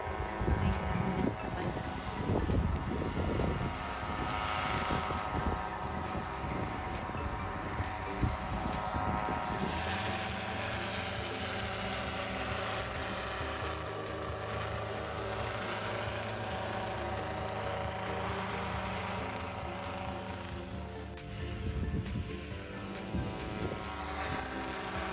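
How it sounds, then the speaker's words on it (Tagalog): A helicopter spraying pesticide over a rice field, its rotor drone loud and sustained with a steady engine hum that shifts slightly as it passes, wind noise mixed in. "Helicopter."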